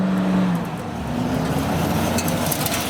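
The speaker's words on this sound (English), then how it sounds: "Turbo noises from the F10 M5." A steady, broad engine rumble with a low droning tone and turbo noise from a modified BMW F10 M5 sports sedan, loud and sustained throughout at a London start line.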